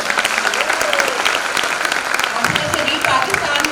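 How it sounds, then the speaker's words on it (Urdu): Sustained applause from an audience at a panel discussion during a national readers conference in Pakistan, steady dense clapping filling the room throughout, close and loud, with some voices mixed in. "وومن امپاورمنٹ کے حوالے سے تالیاں ہو جائیں"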